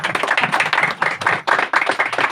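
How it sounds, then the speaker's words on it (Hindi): Loud clapping from an audience at a church sermon, a dense continuous patter of many hands lasting a couple of seconds with brief dips. "भैया के लिए ताली बजाएंगे जोरदार"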